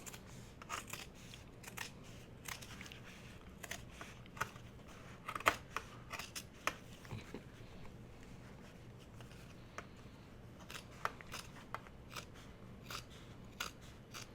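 Scissors snipping paper for a junk journal, a long run of crisp, close cuts in an uneven rhythm, with soft rustling of paper between snips and no talking.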